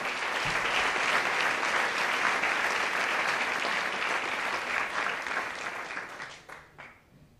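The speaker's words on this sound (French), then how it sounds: "bonne main d'applaudissements pour nos lauréats-lauréates" A crowd applauds award recipients at a scholarship ceremony with dense, sustained clapping that fades out near the end.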